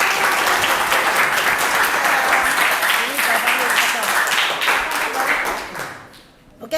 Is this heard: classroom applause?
yes